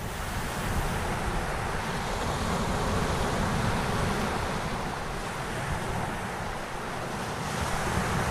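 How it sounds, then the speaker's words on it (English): Wind and high-tide surf at night roll in as a dense, continuous roar of breaking waves, loud and steady throughout with no voices. "Night. Wind, high tide. February breakers, whole armies of them rising up out of the dark."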